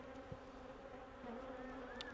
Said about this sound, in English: A lot of bees in there, in all the boxes. That's a strong hive.